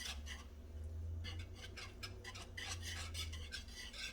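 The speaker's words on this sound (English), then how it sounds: "you're going to just kind of let this, whisk this gently together, let it simmer" A whisk stirs sauce gently in a crockpot, making a run of soft, rhythmic scraping strokes over a faint background hum.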